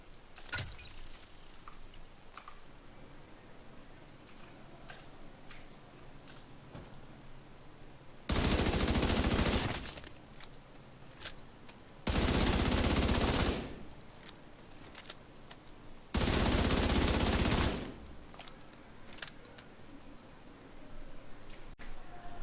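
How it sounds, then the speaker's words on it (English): Chatterbox submachine gun in Division 2, fired in three separate sustained bursts of about one and a half seconds each, loud and rapid against quiet game ambience with faint clicks and shuffles between them. "I'm going to start off with the Chatterbox, shoot 3 targets, and see where the DPS falls"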